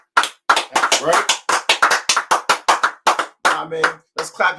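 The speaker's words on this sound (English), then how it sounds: "All right, let's clap it up for the Lord." A group claps rhythmically together at a brotherhood class gathering, sharp, close claps in an even beat with short pauses between bursts, loud and alone without talk.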